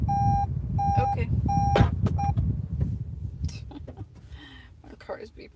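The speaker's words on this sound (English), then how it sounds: "My car is beeping at me." Several short electronic car warning beeps in an uneven series, signaling the car has been idling a while, then they stop while low idling rumble and faint background noise continue.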